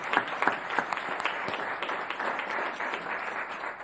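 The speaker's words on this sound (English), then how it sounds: "Let's give her a round of applause, please." Audience applause at a Palm Beach County school district honor ceremony, a steady wash of many hands clapping at moderate loudness for about four seconds, with no voices over it.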